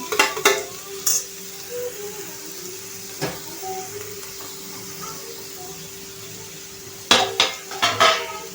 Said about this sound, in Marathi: आता आपण ह्याच्यात गाजर बारीक चिरलेला आणि शिमला मिरची सगळं टाकून परतून घेणार आहोत सगळ्या भाज्या।